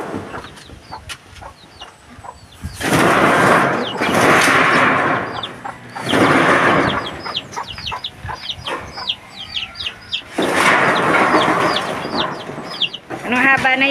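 A hen about to lay, clucking loudly in repeated bursts on a farm, with other chicken calls and scattered bird chirps between them and some background voices.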